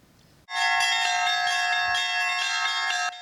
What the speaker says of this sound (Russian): Звон колоколов в селе Пешнигород предвещает начало праздника Рябинник.